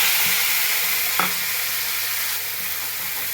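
Ground spice paste with tomato goes into hot oil in a pan for a potato and katla fish curry, producing a steady, close sizzle with a brief knock of a utensil, no talking.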